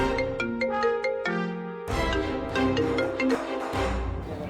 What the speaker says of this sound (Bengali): কে ফোন করলো আবার?